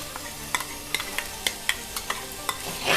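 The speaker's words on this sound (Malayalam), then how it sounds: "ഇഞ്ചിയും വെളുത്തുള്ളിയും സവാളയും പച്ചമുളക് ഇതെല്ലാം നല്ലതുപോലെ വാടി വരുന്നത് വരെ ഇങ്ങനെ ഇളക്കി കൊടുക്കാം." Chopped ginger and garlic sizzling in a frying pan for a Kerala-style squid stir fry, with a spoon scraping and stirring in quick, irregular clicks over a steady close hiss.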